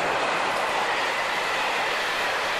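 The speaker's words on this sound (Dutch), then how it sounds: "Daar komt de hoekenpaktrein vanuit Neuss, getrokken door een groene 140." A freight train pulled by a green class 140 electric locomotive rumbles past near Herzogenrath, a steady, loud broadband roar of rolling wagons filling the whole stretch without any talk.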